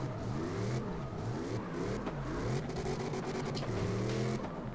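V8 car engine revving in the video game CarX Drift Racing Online, a loud continuous roar rising and falling in pitch with repeated throttle surges, close and alone.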